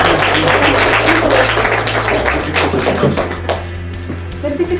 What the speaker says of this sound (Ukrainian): Оплески Анні.